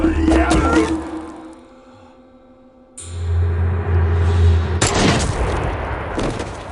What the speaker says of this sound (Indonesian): dia pun juga harus terkena tembakan pistol Kurosaki yang tepat mengenai dadanya